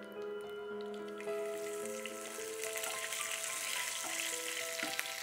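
Curry leaves and fennel seeds crackle and sizzle in hot oil, a steady quiet frying hiss that builds slightly, with faint clinks; no one speaks.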